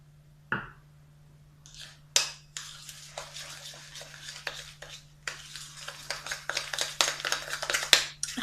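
Sugar being worked into dough by hand in a bowl for homemade sablé cookies, a faint rhythmic scraping and squishing that starts with a few isolated knocks and grows into steady, close stirring over a low constant hum.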